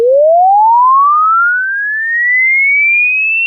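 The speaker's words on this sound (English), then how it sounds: "I'm going to hit you with the dog whistle" A dog whistle sound effect plays as a single clean, loud tone that sweeps steadily upward in pitch for about three and a half seconds and stands alone with no talk.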